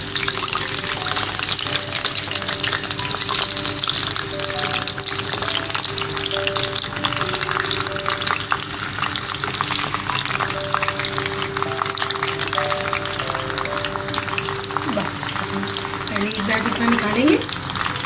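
Piped batter hits hot oil in a steady, close sizzling bubble for sweet puffed rice, the frying continuous and fairly loud with no talk over it.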